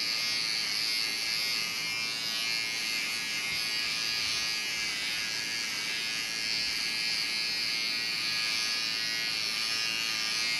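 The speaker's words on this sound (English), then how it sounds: "I'm gonna shave for the audience to see with the clipper without guard." An electric hair clipper with no guard buzzes steadily and close up while shaving a head, a continuous bright motor hum that holds for the whole stretch with no talking.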